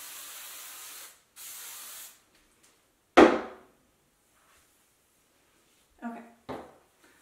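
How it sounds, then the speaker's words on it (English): Two steady hissing bursts of aerosol hair spray, each about a second long, followed later by a sharp clatter and a couple of quieter knocks. "And spraying."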